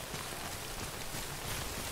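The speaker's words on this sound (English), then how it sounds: "Because it's rain. Just regular rain. Not deadly rain." Steady rain hiss from the video game Death Stranding, an even wash of falling drops on surfaces with no breaks and no talk.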